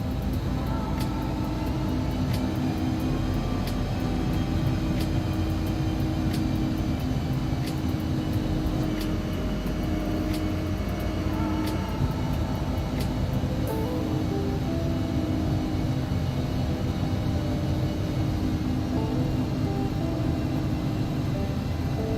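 Embraer ERJ145 twin jet engines taxiing in the X-Plane 11 flight simulator: a constant, loud broadband engine roar with a steady whine, unchanging throughout with faint clicks on top.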